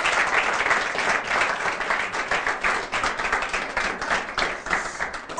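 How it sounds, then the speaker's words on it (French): A studio audience of parents and children applauds steadily on a television program, a dense wash of many hands clapping together at full volume throughout, with no voices over it. "je vais vous demander de vous applaudir"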